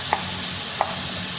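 Grated zucchini and carrot stirred in a pan with a steady faint sizzle, two soft utensil scrapes standing out against the low frying hiss.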